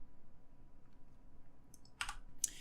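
Quick mouse-button clicks while playing modded Minecraft with the Regrowth modpack: a couple of sharp, close clicks near the end, quiet and isolated against a near-silent background.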